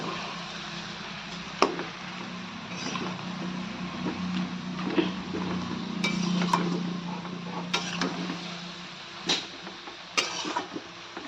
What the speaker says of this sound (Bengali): মাছের মাথাটা গুঁড়ো করে দেবো।